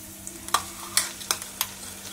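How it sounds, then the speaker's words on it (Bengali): Ginger and garlic frying in a pan give a soft background sizzle, broken by four or five sharp scraping clatters of a spoon stirring, close and fairly quiet, with no voices. "আদা রসুনটা ভাজা হয়ে গেছে"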